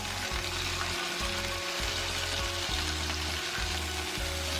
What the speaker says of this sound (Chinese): 先煎一下猪排。 锅里加油烧热，加入猪排